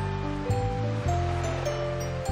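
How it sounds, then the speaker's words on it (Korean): Ocean waves washing in within a children's show, a steady close wash of surf noise under a layer of soft music with shifting sustained notes, continuous for the whole moment. "파도가 데리러 왔나 봐."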